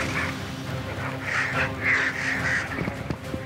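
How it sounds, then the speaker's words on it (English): White-backed vultures squabble over a carcass, giving harsh raucous squawks and hissing calls in bursts amid a noisy scrum, fairly close and loud. "In no time, the carcass is covered in squabbling birds."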